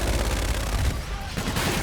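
Dense, loud burst of rapid gunfire from a support strike in the shooter game Call of Duty: Infinite Warfare, sustained and close with a brief dip near the end.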